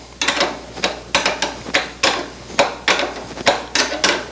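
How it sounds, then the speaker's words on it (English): Two 13mm wrenches ratcheting muffler clamps tight on a Porsche 356 engine, a steady series of about a dozen close, crisp metallic clicks at a regular pace. "Let's get out two 13mm wrenches now, and very quickly tighten these muffler clamps down."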